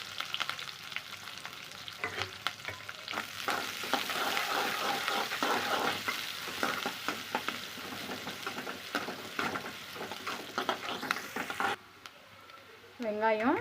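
Chopped onion and curry leaves sizzle and crackle steadily in hot oil for a tawa egg curry gravy, with occasional stirring scrapes, before the frying sound drops away near the end.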